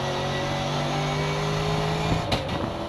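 A Camaro race car runs at speed at PPIR in 2017, its engine a steady, tonal drone that breaks off abruptly near the end into a brief burst of rushing noise.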